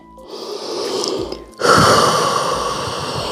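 A fitness class participant resting in child's pose takes a deep breath, with a soft inhale gasp followed by a stronger, noisy breath at close range, with no talking over it.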